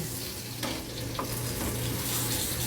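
Steak sizzling in a hot pan as it is flipped, a loud close crackling fry with a sharp flare of spitting fat when the meat turns over, steady throughout.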